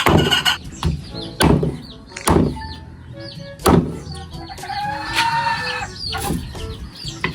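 Close, continuous clucking from native laying hens, punctuated by several loud knocks at irregular intervals and a rising cackle near the end, with no voices.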